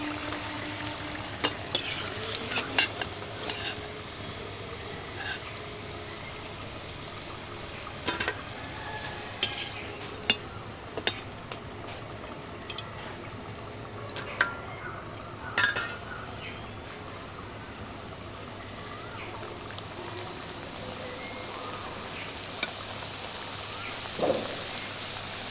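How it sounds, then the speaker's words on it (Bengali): Chicken samosas fry in hot oil with a steady close crackle and sizzle, broken by occasional sharp clicks from a utensil turning them, with no talk throughout. "উল্টে পাল্টে দিয়ে সিঙ্গারাগুলো সব দিক খুব ভালোভাবে ভেজে নেব।"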